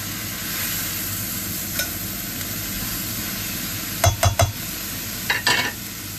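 Seasoned salmon sizzles steadily in a hot pan as it is mixed, a continuous frying hiss broken near the end by a quick cluster of loud spatula scrapes and knocks against the pan, with no voices.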